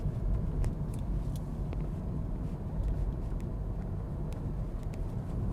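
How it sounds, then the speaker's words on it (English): An automatic-gearbox car drives along, with a soft, steady road rumble and a faint wind hiss from inside the cabin; a few light ticks sound over it, and no distinct gear shift stands out. "the car changes gear for me. It's selected a lower gear, it's a bit more flexible through the corner."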